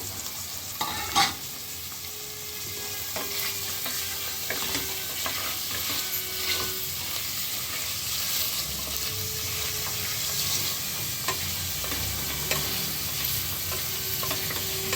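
Mutton stirred and fried in oil in a pan, with a steady sizzle and intermittent scraping stir strokes over about fifteen seconds, no voices.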